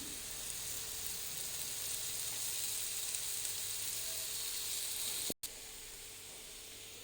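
Dill leaves frying in a pan for egg bhurji give off a steady, close sizzle with constant hiss that runs unbroken, cuts out for an instant near the end, then resumes.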